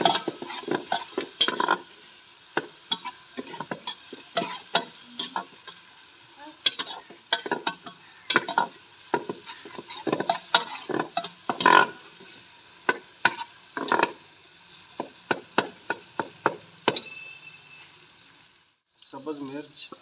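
Garlic and ginger paste fries in a pan with tomato, sputtering and crackling as a spoon stirs and scrapes in frequent irregular bursts, close and fairly loud, with a voice speaking now and then.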